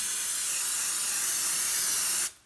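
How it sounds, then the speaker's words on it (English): Cooking oil sprays onto a baking pan for a blueberry cake, a continuous close hiss from the aerosol can lasting about two seconds before stopping abruptly. "it's now time to spray the pan."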